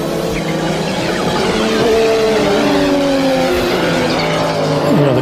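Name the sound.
Audi five-cylinder racing engine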